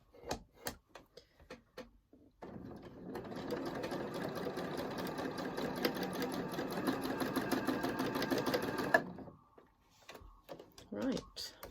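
A sewing machine stitches through a quilt in a steady, fast mechanical whir lasting several seconds, bracketed by brief handling clicks and bumps before and after.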